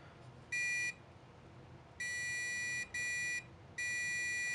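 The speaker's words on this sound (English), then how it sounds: "Here I have one hooked up to my multimeter in continuity mode." A multimeter in continuity mode beeps as a cheap magnetic reed switch closes near a magnet, a high steady tone sounding in four bursts of varying length over faint room hiss.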